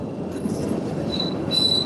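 A steady, loud rumble of an elevated train passing overhead in Chicago, with a thin, high metallic wheel squeal rising in the last second as it turns.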